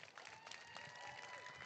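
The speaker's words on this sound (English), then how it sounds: "So give them a round of applause," An audience at a graduation ceremony applauds in a faint, distant, continuous patter of many hands, with crowd noise and voices beneath it.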